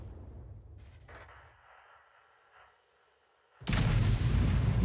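A tank cannon in a video game fires a single round: one sudden loud boom near the end of the clip, following a few seconds of quiet mechanical hum.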